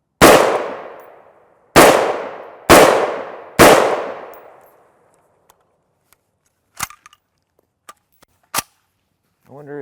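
An AAA SAP 5.56mm pistol fires four sharp, loud shots, the first alone and the next three in a quicker run, each ringing out in a decaying echo, followed by a few faint clicks and clanks.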